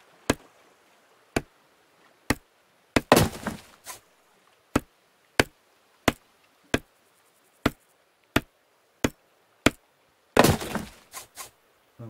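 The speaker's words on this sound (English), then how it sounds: "I just love the sound of the trees hitting the ground." An axe chops trees in the Rising World video game, a steady series of sharp, evenly spaced thwacks. Two louder crashing bursts land as trees fall to the ground.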